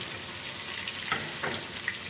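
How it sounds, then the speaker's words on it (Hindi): Chopped onions sizzle and crackle steadily as they fry in a pan for biryani, a soft, close hiss with a few small pops and no voices. "प्याज को हम फ्राई कर लेते हैं।"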